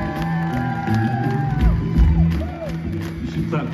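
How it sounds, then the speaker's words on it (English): A concert crowd at an outdoor show at Chateau Ste Michelle clapping, cheering and whooping loudly, with shouts and bursts of voices rising and falling over a continuous roar of applause. "Clap for yourselves."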